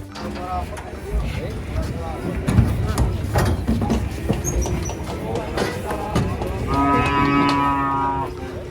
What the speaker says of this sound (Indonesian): Kedatangan 2 sapi monster hitam.